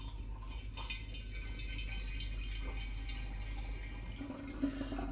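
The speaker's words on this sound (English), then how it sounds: "So I'm just going to very gently pour." Homemade hard apple cider poured gently through a filter, a steady continuous liquid trickle and splash running throughout at moderate level, with no talking.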